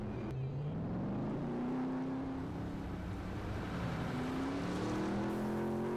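A vehicle engine in Farming Simulator 19 hums steadily throughout, its pitch climbing, dipping and climbing again as the machine revs, with a faint voice in the background.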